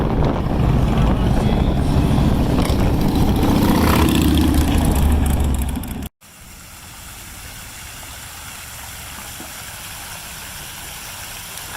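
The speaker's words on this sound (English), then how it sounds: "It's a motorcycle parade!" Engines of a motorcycle parade in Washington, Illinois rumble loudly as the bikes pass close by for about six seconds, then the sound cuts to a quieter, steady engine hum.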